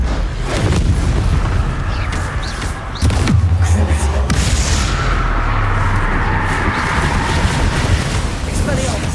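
Spells blast and burst in Hogwarts Legacy combat, a dense, loud wash of booming explosions and crackling impacts with a sharp hit near the three-second mark, under a voice calling out spell names.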